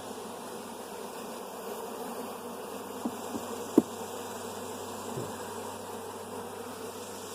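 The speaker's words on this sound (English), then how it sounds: "These bees are making honey at this point." Honey bees buzzing during a hive inspection, a steady dense drone from many insects close by, with a couple of faint knocks and no talk.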